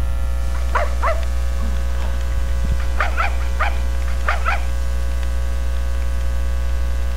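Dog barks in the Tenchu 2 video game, several short barks in two or three bursts over a steady loud electrical hum, moderately close, no talking.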